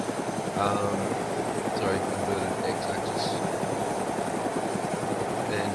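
A helicopter flying in the video game ArmA II DayZ: a steady, continuous rotor and engine drone that holds at the same level throughout, under someone talking.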